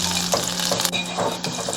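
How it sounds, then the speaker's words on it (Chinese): Spices, scallion and ginger stir-fry in a little hot oil in a heated clay pot, giving a steady close sizzle broken by several scraping stirring strokes. "我们香料、葱姜这些炒香"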